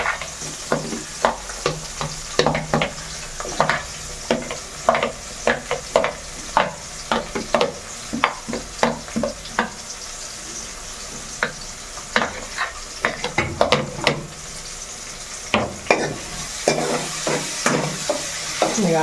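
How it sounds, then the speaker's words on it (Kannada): Onion and garlic frying in a pan on medium flame, with repeated scraping stirs and clinks over a continuous sizzle, close and fairly loud, with no voices. "ಈಗ ಆನಿಯನ್ನ ಫ್ರೈ ಮಾಡ್ತಾ ಇದ್ದೀನಿ"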